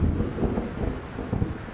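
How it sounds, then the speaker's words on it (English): A stormy night in the video game Gone Home brings low rumbling thunder rolling beneath steady rain, a deep, moderately loud swell that rises and falls over about two seconds without voices. "Oh no, it's a stormy night and I'm scared now."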